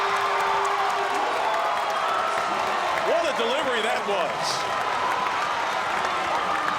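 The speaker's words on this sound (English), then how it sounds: "The crowd starting to come alive, getting excited." Students in the stands of a men's college basketball game against Ferris State roar and cheer in a steady wash of crowd noise, with scattered whoops rising as a commentator talks over it.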